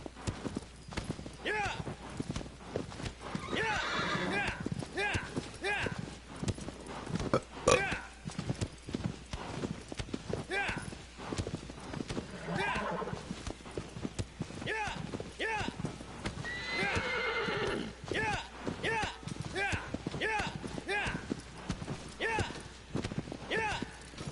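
A horse gallops across open ground in the 2018 Shadow of the Colossus video game, with rapid, steady hoofbeats throughout and occasional neighs, while someone talks over the game sound.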